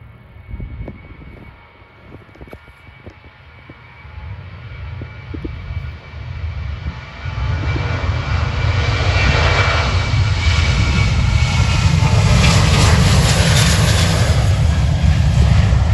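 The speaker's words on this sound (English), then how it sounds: "Taking off now is a Jet 2 Boeing 737 from Manchester to Funchal." A Jet2 Boeing 737 takes off from Manchester Airport, its engine roar building from a moderate rumble to a loud, sustained, broadband thunder with a rising whine as the jet powers up and passes close.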